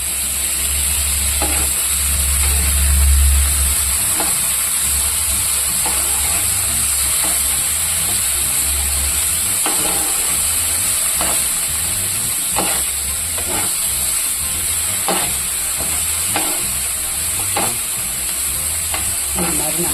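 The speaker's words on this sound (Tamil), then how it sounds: "போட்டு நம்ம பாவக்காய் வந்து நல்லா கொஞ்சமாக நல்லா மீடியமில் வச்சு நம்ம வதக்கணும்" Sliced bitter gourd frying on a tawa over medium heat, a constant close sizzle with steady hissing and repeated scraping stirs of the spatula throughout.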